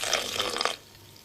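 Water poured from a small vessel into a cooking dish in a wartime kitchen, a brief close splashy trickle lasting under a second before it stops and only quiet room tone remains.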